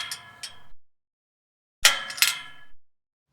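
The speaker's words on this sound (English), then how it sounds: "There's some gate open sounds." Gate-opening sound effect auditioned from a sound library: two short metallic clinks, then a silence, then a louder burst of rattling metal clanks lasting about a second, close and clear with no voices.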